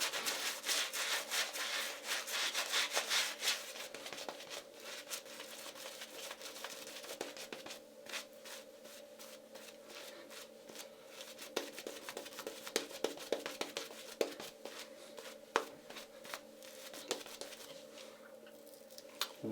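A&E budget tallow shaving soap is worked into a lather on the face with a brush, giving a steady soft rubbing and patter at close range. Quick squishy strokes come in bursts over a faint background hum.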